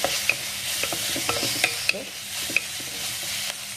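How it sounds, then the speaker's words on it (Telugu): Ginger garlic paste sizzling in a pan while being stirred, a continuous fry hiss broken by repeated spatula scrapes and clicks. "దీంట్లోనే కాస్త అల్లం వెల్లుల్లి పేస్ట్, కొంచెమే కదా, ఒక్కకాయ కదా, కొంచెమే వేస్తున్నాను"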